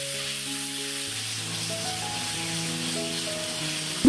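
Marinated chicken frying in oil in a pan over a high flame gives a steady, even sizzle that runs throughout, with soft musical tones underneath.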